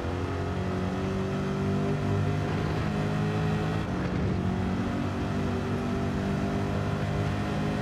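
A 2014 Chevrolet Corvette C7 engine in a racing video game roars with a loud, steady drone that holds at high revs throughout, with no voices.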